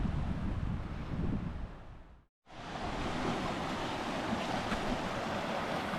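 Steady, broad rushing roar of a waterfall on Harper's Creek in Pisgah National Forest, loud and continuous, cut by a brief dropout of near silence midway before the roar resumes.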